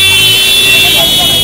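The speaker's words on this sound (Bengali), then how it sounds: "হ্যাঁ গাড়ির সাউন্ড বড় খারাপ সাউন্ড" Road traffic and vehicle noise at a busy poultry market: a loud, steady roar of engines with a high whine and possible horn toots, very close, with voices mixed in.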